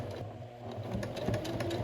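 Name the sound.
sewing machine stitching cosplay garment pieces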